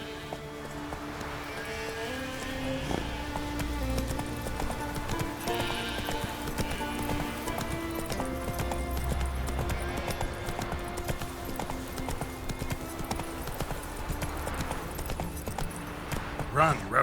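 Hooves of Geralt's horse Roach clip-clopping in a steady gallop in The Witcher 3: Wild Hunt, rhythmic and continuous under game music and ambience, with a brief whinny and a voice speaking.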